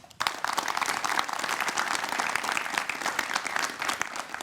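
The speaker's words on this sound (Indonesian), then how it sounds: "Tepuk tangan untuk adik-adik." A studio audience of university students at Kompas TV's Studio 1 in Menara Kompas bursts into applause, sharp dense clapping starting abruptly and sustaining strongly throughout.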